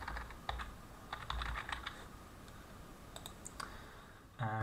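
Typing on a computer keyboard, a quick run of light clicking keystrokes in irregular bursts with short pauses, close and alone, ending in a slightly heavier clatter.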